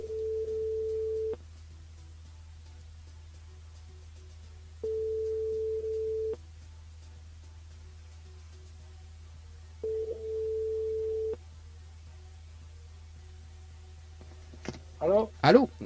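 A telephone line rings out while a radio host calls a listener during a live FM broadcast, with three evenly spaced steady tones separated by long silent gaps under a constant low hum, followed by a brief burst of voice.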